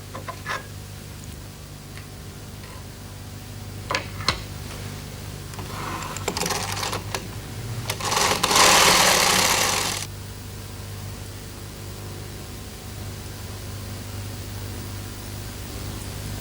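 A BOND Incredible Sweater Machine knits a row: the carriage slides across the needle bed in a loud rasping sweep of a couple of seconds, preceded by a few sharp clicks, with quiet hum around it.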